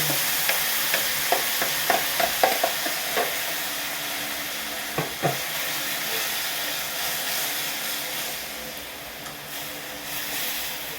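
Water spinach (kangkong) for adobo cooks in a pan, giving a steady sizzling hiss with scattered clinks and stirring knocks that fade after the first few seconds.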